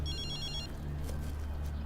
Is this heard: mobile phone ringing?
yes